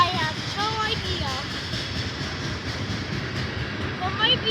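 A freight trash train rolls past at Cresson, a steady, loud rumble of rail cars that lasts the whole stretch, with wind buffeting the microphone and a few brief higher squeals over the noise.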